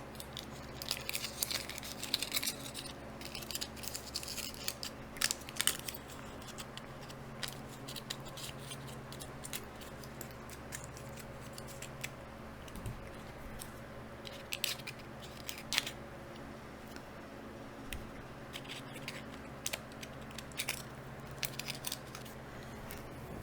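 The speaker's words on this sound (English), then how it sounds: "Then we're going to put a slit in the foil so that the plant can grow through it" Scissors snip a slit in aluminium foil covering a hydroponic seedling pot, giving a steady run of close, crinkly cuts and foil rustles throughout with no talking.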